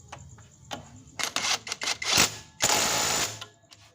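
A ratchet wrench tightening a 19 mm nut on a scooter, heard as a few quick clicking ratchet strokes followed by a longer raspy burst, close up in a quiet workshop.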